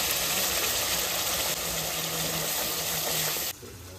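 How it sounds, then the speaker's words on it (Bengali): Dried and green chillies, cumin, ginger, garlic and turmeric frying in oil, a dense, steady, loud sizzle that continues without a break and then drops away abruptly near the end, with no talking over it. "মশলাটা কষানো হয়ে গেছে"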